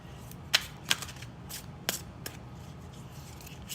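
Several crisp riffling bursts of a thick tarot deck being shuffled, spaced irregularly against a quiet background, close to the listener with no talking.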